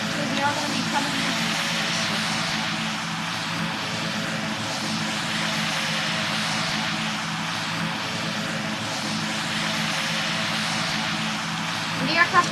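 Aircraft engine drone of a plane on approach to land in the Roblox flight game PTFS, a steady, loud propeller-like hum sustained throughout with a few small clicks at the end.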